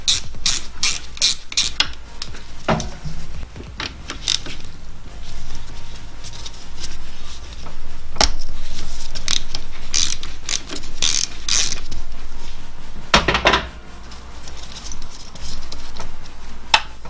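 Repeated clicking of a 17mm ratchet wrench working a bracket loose on a Mazda MX5 turbo build, the ratchet rattling in quick bursts with brief pauses, close and fairly loud with no talk.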